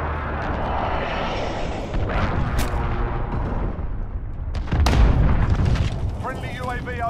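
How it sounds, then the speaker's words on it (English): Cruise missile blasts in Call of Duty Modern Warfare 2019 multiplayer, a loud rumbling battlefield with deep booming explosions, the heaviest near the end, amid gunfire and aircraft noise under scattered voice chatter. "Enemy cruise missile incoming."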